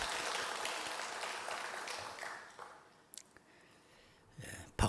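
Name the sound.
applause in church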